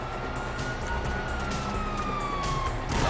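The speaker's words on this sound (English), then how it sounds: "you hear that? Sirens!" A police siren in GTA V wails beneath a dense, steady wash of noise, its tone slowly gliding, with no voices over it.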